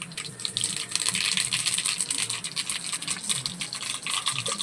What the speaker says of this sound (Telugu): ఆయిల్ వేడెక్కిందండి. మనం జీలకర్ర ఆవాలు వేసుకుందాము.